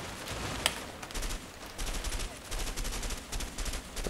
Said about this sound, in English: Why is this gun so inaccurate? It's burst fire, it should be pretty accurate.